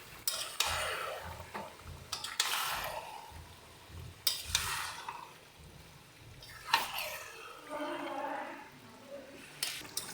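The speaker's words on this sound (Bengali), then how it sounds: "দেখো, এবার এটাকে ভালো করে মিক্স করে নিচ্ছি নিচে যে পেঁয়াজ আর মশলাগুলো ভাজলাম তার সাথে।" Mutton stirred and mixed with fried onions and spices in a pot: intermittent close scraping and stirring strokes with soft sizzling in between, a few clinks, and a voice talking quietly at times.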